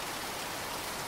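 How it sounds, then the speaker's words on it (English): Steady rain pouring outside on a stormy night, a dense, even hiss of falling water with no gaps, fairly soft and uniform throughout, with no voices. "As the rain continued to pour outside"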